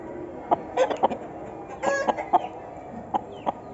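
An Aseel rooster on a farm gives a run of short, moderately close clucks in uneven bursts, mostly by itself with only a trace of background voices.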